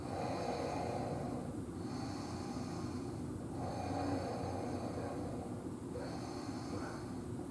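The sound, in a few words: breathing during a yoga pose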